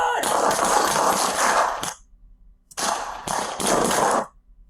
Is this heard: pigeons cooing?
no